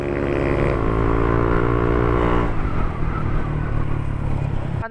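A Yamaha motorcycle engine, just back from a crankshaft thread repair, revs up close and loud, then its pitch falls away into a rougher, lower idle.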